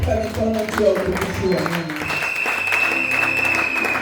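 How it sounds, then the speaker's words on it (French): A church congregation bursts into sustained, loud applause in praise of the King of Glory, with voices rising over the clapping throughout. "Est-ce que nous pouvons acclamer très fort pour le roi des gloires?"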